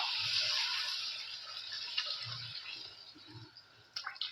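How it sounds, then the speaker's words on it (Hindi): Four cups of water poured into a pan of lightly fried ingredients for mandi rice, a close gushing pour that trails off into drips and small splashes, ending with a few sharper clinks. "ये देखिए, ये मैंने 4 कप पानी डाला है इसमें।"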